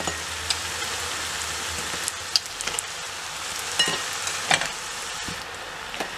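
Puf pişi dough, plain or cheese-filled and made with yogurt, fries in hot oil with a steady close sizzle, broken by occasional sharp pops and crackles.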